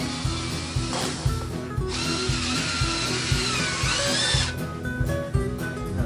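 A power drill drives screws into wood while a greenhouse trough is built, the motor whirring loudly and rising in pitch under load, with pauses and repeated rattling bursts between screws, close and continuous.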